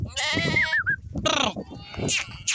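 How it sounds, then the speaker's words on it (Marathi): Sheep bleat loudly nearby in a few quavering calls, one after another, as a flock is driven into a pen, with other animals shuffling in the background. "आता वाड्यामध्ये जात आहेत मेंढ्या"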